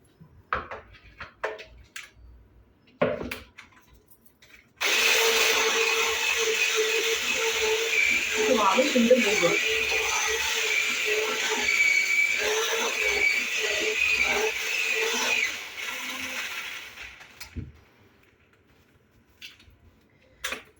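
An electric hand mixer whirs steadily for about twelve seconds while making tiramisu, starting and stopping abruptly, with faint clinks and quiet sounds before and after.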